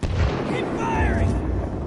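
Heavy gunfire and booming blasts from Titanfall 2 combat roll continuously at loud level, with a brief whistling tone rising over the din midway.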